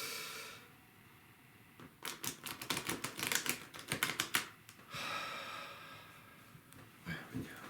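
A deck of tarot cards riffled by hand, a close burst of rapid fluttering clicks lasting about three seconds, with soft breathing before and after.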